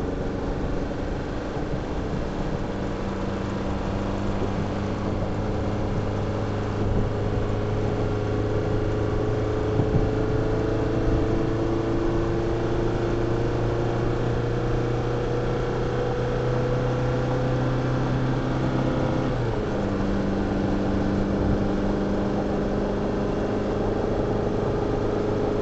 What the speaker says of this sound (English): This little truck will actually burn the tires off, even with the 920 pounds that we have of tongue weight on the vehicle.